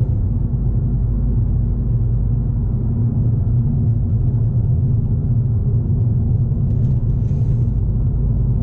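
A car cruises along a road at about 90 km/h, giving a steady, loud low rumble of engine and road noise that holds evenly throughout, with no voices.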